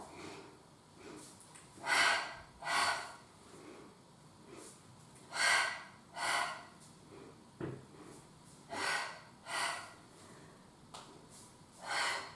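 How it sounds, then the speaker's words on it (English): Rhythmic breathing during a Pilates athletic class, about nine distinct breaths of alternating inhales and exhales, fairly close and moderately loud, with no talking. "And again, inhale, inhale, exhale, exhale."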